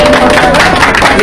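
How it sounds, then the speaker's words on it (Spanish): A crowd of church leaders gives loud, close applause on the trip from the airport to Sacsayhuamán in Cusco, dense clapping with voices mixed in. "un fuerte aplauso a todos los líderes que están acá presentes"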